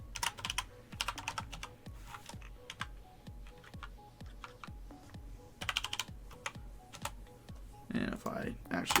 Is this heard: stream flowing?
no